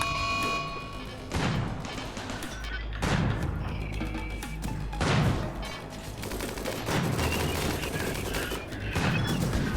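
Automated defense turrets in RimWorld fire steady bursts of gunfire at attacking deserters, with repeated heavy thuds and impacts layered through a dense, continuous barrage of shots.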